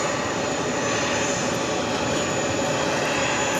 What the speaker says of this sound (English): 577 taking off to Jacksonville on the A320 in the New York Jets livery